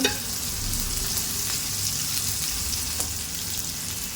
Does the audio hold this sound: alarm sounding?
no